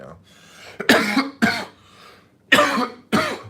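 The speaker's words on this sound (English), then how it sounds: "I'm coughing like crazy." Four harsh coughs up close, in two pairs with a pause between them, each a sharp burst.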